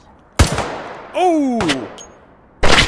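Gunfire in the VR shooter H3VR in an urban scene: two loud close shots and a final third, with a whining synthetic tone between them and a brief startled exclamation.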